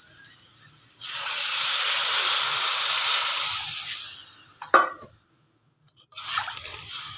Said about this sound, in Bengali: এখন পানি দেব।